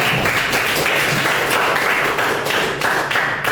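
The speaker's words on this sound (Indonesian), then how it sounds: "tepuk tangan dulu untuk kita semua" A classroom of students at a vocational high school design class claps together, a loud, continuous wash of hand claps with sharper individual slaps poking through the steady roar.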